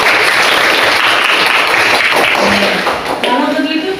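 Classroom applause from students clapping together, a loud dense burst that holds for a few seconds before thinning, with a teacher's voice briefly heard near the end.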